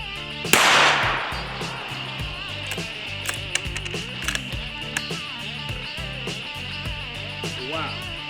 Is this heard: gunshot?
yes